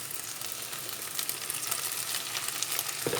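Purslane (semizotu) is stirred into browned onions and meat in a hot pan, making a steady close sizzle with soft scraping stir noises and one louder knock near the end, with no voices.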